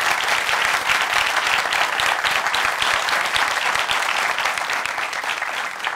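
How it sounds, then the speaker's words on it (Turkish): Steady, dense applause from a studio audience fills the space as a relationship quiz show opens, continuous and even in loudness throughout with no voices on top. "Hanımlar beyler, ilişki testi yeni bölümüyle alkışlarla başlıyor."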